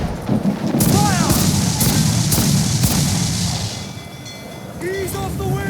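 Ship cannons fire in an Assassin's Creed naval battle on the Caribbean sea: a rolling volley of heavy booms over rushing wind and water. Shouted voices and crew calls run through it, with a brief lull near the end.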